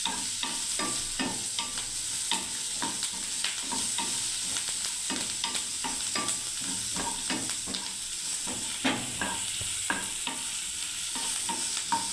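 Vegetables fry in a pan with a constant bright sizzle, while a utensil stirs them in frequent close scraping and tapping strokes throughout.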